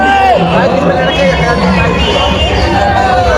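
A dense, loud crowd mills about at the Devi Patan fair, overlapping voices and babble filling the air continuously, with nearby people talking.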